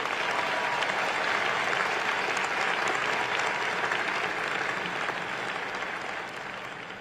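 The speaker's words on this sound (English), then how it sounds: "So let's give him a round of applause." A large crowd applauding at a university commencement ceremony, dense sustained clapping for about seven seconds at a loud, even level before easing slightly near the end.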